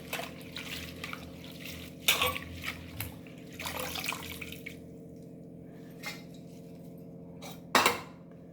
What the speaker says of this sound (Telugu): కలేమాకు శుభ్రంగా కడుక్కోవాలి.